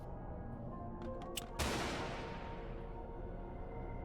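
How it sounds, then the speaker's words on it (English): A stun grenade detonates in the game Barotrauma, a single loud blast with a long hissing decay fading over a couple of seconds, preceded by a few faint clicks. "That was 2 strong stun grenades?"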